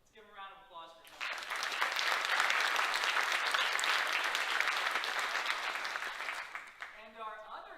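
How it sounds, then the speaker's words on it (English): Campus audience at an AIA event at Ranken gives a returning guest named Tony a round of applause: steady, dense clapping that swells for about six seconds and then tapers off, with speech just before and after. "Let's give him a round of applause for Tony"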